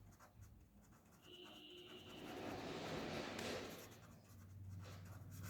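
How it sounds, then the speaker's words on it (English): Pen or marker writing notes on a board during a lecture, a soft continuous scratching that swells in the middle of the stretch, fairly faint against room noise, with no talking. "The sixth point, I will write it here."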